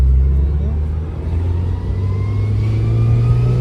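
A Mazda Miata engine hums loud and close with a low steady drone during a mild braking stop, the pitch dipping and rising slightly.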